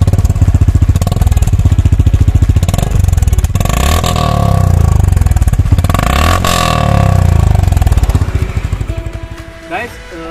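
Exhaust of a 2022 Honda H'Ness CB 350 BS-VI motorcycle revving up and down, close and loud with a thumping single-cylinder rumble and several rising and falling throttle blips, fading to idle near the end.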